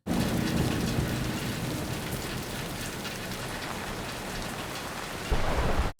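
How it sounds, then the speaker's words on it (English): Heavy rain pours in a steady loud hiss during a TV episode's thunderstorm, with a deep rumble of thunder swelling near the end before cutting off abruptly. "Taking advantage of the storm, low visibility."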